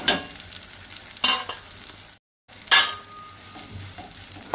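Semolina (rava) being roasted in ghee in a pan for Goan sheera, with a soft steady sizzle and a few scraping stirs of a spoon, quiet and close.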